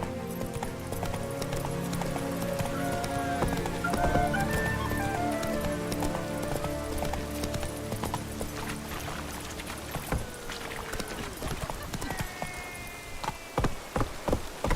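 Roach the horse gallops in The Witcher 3 with a steady, close, rhythmic hoof clatter under game music, then slows to a few scattered hoofbeats near the end.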